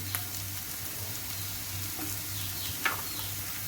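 Tomato paste sizzling in a pan with softened garlic for shakshuka, a steady low hiss of frying with a couple of brief stirring clicks, close and fairly quiet.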